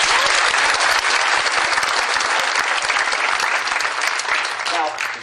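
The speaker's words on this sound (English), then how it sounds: "Give her a hand." Sustained audience applause fills a room at a hypnosis and NLP seminar, dense and loud throughout, tapering slightly toward the end.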